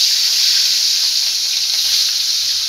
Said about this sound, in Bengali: মাছটা দিয়ে দিলাম আমি ভাজি করতে।